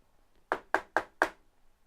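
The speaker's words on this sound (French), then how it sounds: "On frappa à la porte." Four sharp knocks on a door in quick, even succession, close and clear against a quiet room.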